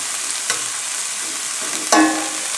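Diced peeled potatoes fry in a pan for hash browns with a low, steady sizzle, broken by two brief scraping or clinking touches, the second a bit louder, close up with no voices.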